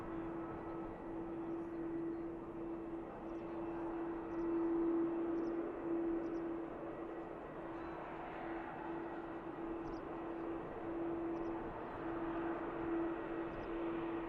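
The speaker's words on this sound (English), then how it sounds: "And finally, the EasyJet is now on the move." An easyJet airliner taxis at Manchester Airport, a distant, faint steady engine whine and rumble with a sustained tonal hum throughout.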